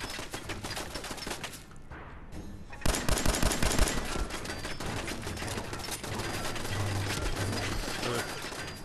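Rapid bursts of game gunfire from Fallout 4 crackle in a dense run of shots, with a short quiet gap before a louder cluster and then steady continued firing.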